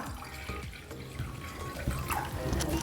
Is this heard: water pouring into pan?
yes